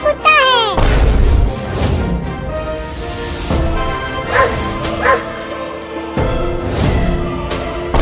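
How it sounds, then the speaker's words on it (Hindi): A cartoon dog barks and yips in a quick run of loud barks and whimpers, with a whistling cartoon sound effect at the start and a voice talking over parts of it. "देखो तुम्हारे पीछे कुत्ता है।"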